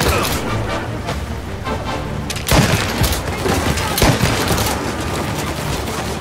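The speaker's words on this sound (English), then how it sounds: "Oh man, they have Tommy guns." Tommy gun fire in Mafia Definitive Edition, a sustained dense rattle of rapid shots with sharper cracks and impacts standing out, loud and continuous across the whole stretch, with faint voices underneath.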